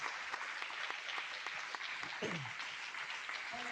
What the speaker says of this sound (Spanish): Dale fuerte el aplauso, se lo vas a dar.